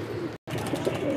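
Soft, low pigeon coos close up, a brief throaty warble broken by a short gap of silence.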